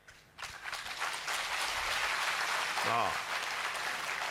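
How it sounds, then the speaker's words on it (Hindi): An audience at a poetry recitation breaks into applause, the clapping starting abruptly and holding as a steady wash, with a brief spoken word near the start. "जोर से तालियां बजाइए"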